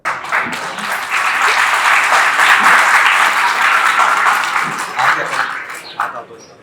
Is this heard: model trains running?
no